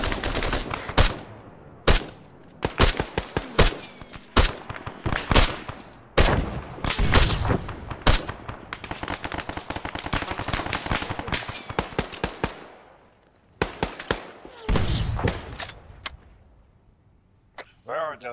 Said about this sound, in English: Suppressing fire, suppressing fire.